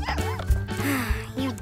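A cartoon dog gives several quick, high yipping barks and whimpers in a short burst, close and clear over a soft musical background.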